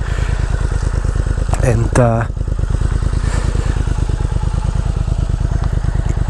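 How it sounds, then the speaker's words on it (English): A 2022 Triumph Speed Twin motorcycle idles with a steady, loud, close parallel-twin engine pulse throughout, while someone talks over it. "this is my 2022 Triumph Speed Twin"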